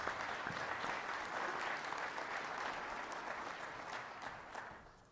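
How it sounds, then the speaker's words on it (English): A conference crowd at CMLS 2019 gives a round of applause, a dense, even roar of clapping heard from a little distance that tapers off at the end. "So round of applause."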